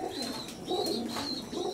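Fancy pigeons kept by a hobby breeder coo in several soft, rolling phrases, a few seconds apart and fairly close, with light chirps between them.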